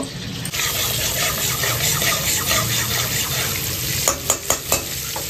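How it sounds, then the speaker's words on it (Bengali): A steady, loud sizzle of paneer frying in butter in a pan, followed near the end by a few sharp clinks of a utensil stirring. "এখানটায় বাটার দিয়ে ওগুলোকে ভাজা হবে।"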